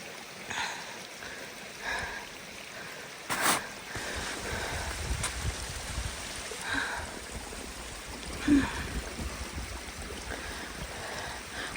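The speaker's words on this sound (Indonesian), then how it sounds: "Tuh, di bawahnya kita ini air mengalir ini." A mountain stream flows beneath a hiking path, a steady broadband rush of water with occasional soft bumps and gusts of wind outdoors.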